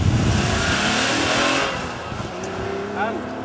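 Nitrous-fed Jaguar race car accelerating and struggling to change gear, a loud roaring engine note that drops away as the revs fall, with a voice talking over it.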